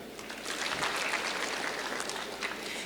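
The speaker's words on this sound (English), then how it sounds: "Please clap for her." Audience at a university graduation ceremony giving brief applause, a soft, steady patter of clapping that sounds somewhat distant.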